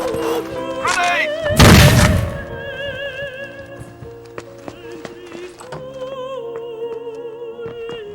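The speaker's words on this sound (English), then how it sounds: "Grenade!" A grenade blast in the Xbox game Rainbow Six 3 lands as one loud, broad boom among game sounds and music, then fades into lingering tones as shouted voices carry on around it.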